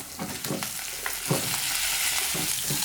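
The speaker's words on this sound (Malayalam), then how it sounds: "ഇനി ഞാൻ ഇതിലേക്ക് ഇട്ട് കൊടുക്കുന്നത് 2 വലിയ സവാള ഇതുപോലെ നീളത്തിൽ മുറിച്ചെടുത്തതാണ്" Long-sliced onions and curry leaves fry in hot oil for a Kerala-style masala dosa filling, a loud continuous sizzle with scraping stir strokes, close up and without voices.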